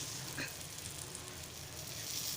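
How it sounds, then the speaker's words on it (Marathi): Bombil (Bombay duck) fish sizzles and crackles in hot oil on a griddle, a soft steady hiss with small pops, fairly quiet and close. "फ्राय करण्यासाठी तव्यावर ठेवायचं आहे"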